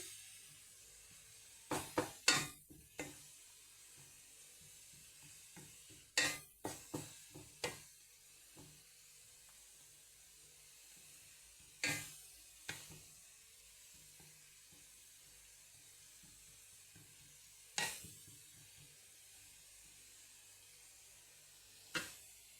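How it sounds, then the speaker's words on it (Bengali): Onions fry in a pan for pasta with a quiet, steady sizzle, punctuated every few seconds by sharp clatters of stirring against the pan. "এখানে পেঁয়াজ আছে, এটাকে ভালো করে ভেজে তারপর দিয়ে দেব পাস্তাটা"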